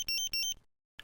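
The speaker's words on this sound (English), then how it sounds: "This alarm cannot be acknowledged." A Dräger X-am 5000 series portable gas detector sounds its alarm: two loud, rapid bursts of shrill electronic beeping, then a brief silence before a third burst begins.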